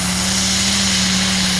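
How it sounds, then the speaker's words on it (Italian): A tractor-pulling machine powered by a Fiat 850 engine howls at full load at a 2013 tractor pulling event, a loud, unbroken droning roar with a steady high whine. "Su a caricare il motore Fiat, il cuore italiano dell'850 Very Super"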